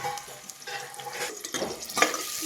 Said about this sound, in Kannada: ಫಸ್ಟ್ ಉಳ್ಳಾಗಡ್ಡೆ ಹಾಕ್ತೀನಿ ಸ್ವಲ್ಪ ಫ್ರೈ ಆಗ್ಬೇಕಲ್ಲ